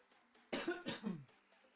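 A single sharp cough bursts out loud and close, followed by a brief rough tail, set against a quiet room background.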